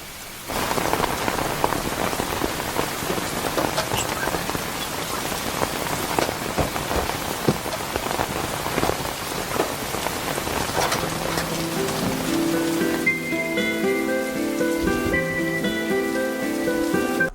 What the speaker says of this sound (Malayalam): അമ്മച്ചി ഈ മഴ തോന്നാൻ ലക്ഷമില്ല കേട്ടോ